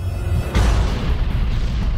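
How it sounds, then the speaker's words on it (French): Dramatized impact explosion of a Mars-sized object crashing into the young Earth: a sudden deep boom followed by a sustained loud, low roaring rumble. "Un objet de la taille de Mars s'écrase sur notre planète"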